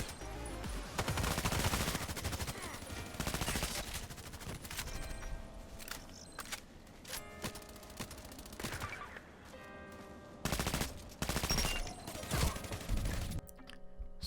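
Heavy gunfire from the Contract Wars shooter game, loud bursts and fusillades repeating across the whole stretch with dense rapid shots and short gaps, no talking over it.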